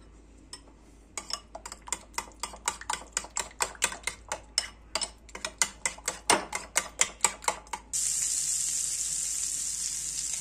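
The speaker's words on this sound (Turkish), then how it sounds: "Biraz tuz ekleyip karıştırıyoruz." A spoon knocks against a bowl while salted garlic yogurt is stirred, giving a quick, regular series of sharp clicks close up. A steady hiss then takes over at the end.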